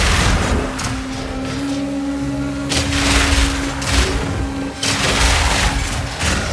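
Grenades detonated by Explosive Shot in Path of Exile 2, a Mercenary build, with dense repeated booms and crackling blasts in loud waves, plus a steady tonal game hum running underneath.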